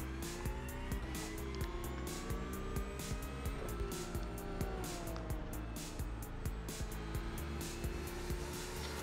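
A race car in the iRacing video game builds speed, its engine droning and rising in pitch with rhythmic gear shifts, steady and close throughout.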